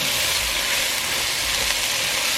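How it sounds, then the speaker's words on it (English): Nopales, cut cactus paddles, sizzle steadily and loudly in hot oil on a stovetop, a dense continuous hiss with small crackles. "So here are our nopales. We're just gonna put it right into the oil. Right into the oil. Fry them up a little bit."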